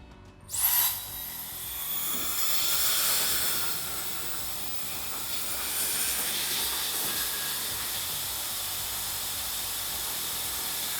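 A Wahl Vanquish hair dryer blasts with a steady, airy whoosh after a sharp click on, running continuously at a loud, even level with no talking.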